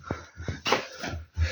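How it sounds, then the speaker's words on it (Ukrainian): A dog whimpers in short, soft bursts inside an abandoned 1957 building, a few faint whines and breathy yips close by, with no talking during them. "це собака."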